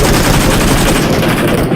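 An Uzi submachine gun fires a sustained, rapid burst of about two seconds in PUBG Mobile, loud and close, cutting off abruptly.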